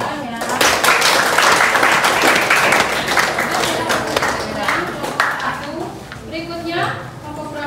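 A school arts class applauds after a group presentation, brisk clapping from a roomful of students lasting several seconds, with chatter and a voice rising over it as it tapers off.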